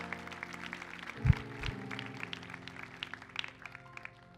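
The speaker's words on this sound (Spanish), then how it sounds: "Un aplauso aquí a los modelos." A church congregation claps together in a steady patter of applause, moderately loud and sustained, with a few louder thumps early on.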